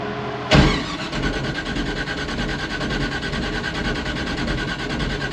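A 1955 Chevy Nomad gasser V8 catches with a loud burst and settles into a rough, lumpy idle that runs steadily and close for several seconds, with no talk.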